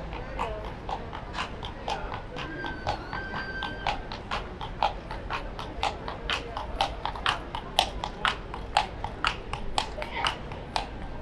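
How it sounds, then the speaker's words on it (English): A horse's hooves clip-clop past on a city street, a steady run of sharp, close strikes in even rhythm, with someone talking faintly underneath. "Horse passing there."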